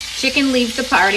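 Chicken frying in a pan over medium heat for chicken piccata, a steady sizzle running beneath a voice as he talks.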